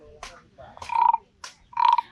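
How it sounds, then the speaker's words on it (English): A wooden toad toy, played at a stall in Thailand, gives two rasping croaks, each a ratcheting buzz that ends in a loud, steady croaking tone, with short gaps between them and no talking over it. "Wow, that's incredible. It sounds like a toad."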